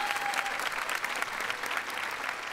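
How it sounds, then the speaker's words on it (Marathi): A studio audience at the Marathi comedy show Chala Hawa Yeu Dya claps loudly and steadily for producer-director Mandar Devasthali, a dense, continuous wash of applause. "जोरदार टाळ्या त्यांच्यासाठी"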